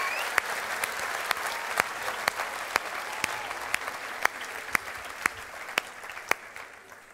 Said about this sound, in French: Est-ce qu'on peut applaudir le Créateur?